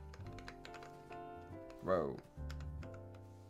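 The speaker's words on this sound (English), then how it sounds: "Why am I not typing properly?" Keystrokes on a Mountainblocks MB17 mechanical numpad, a quick series of clicky taps in bursts, close and fairly quiet, with a brief spoken exclamation in the middle.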